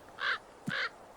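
An injured bird caws twice in the video game Nocturnals End, two short, harsh crow-like calls close by with a brief pause between them.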